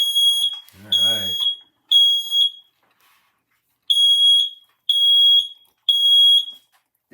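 Smoke detector sounds during a button test: a series of loud, piercing, high beeps in groups separated by short gaps, with brief talking in between.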